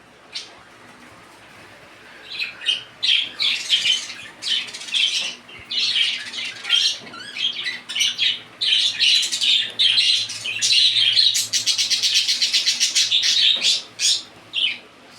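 Pet birds, a breeding pair, call and squawk in rapid, overlapping bursts that build to a dense, loud chatter of shrill chirps with brief pauses.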